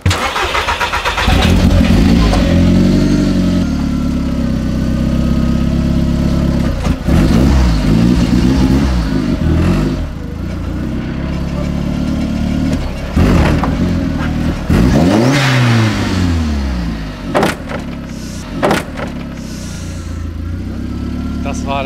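A Casalini M20 microcar fitted with an Audi engine starts and runs loud and close, idling roughly, revving up and down repeatedly with rising and falling pitch, while people talk nearby.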